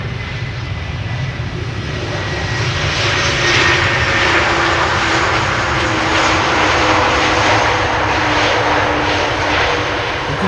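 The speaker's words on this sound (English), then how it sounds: "You could hear the reverser spool up" Delta Airlines jet landing at Amsterdam Schiphol, its thrust reversers spooling up into a loud, sustained roaring rush that swells over a few seconds and holds, heard from a distance.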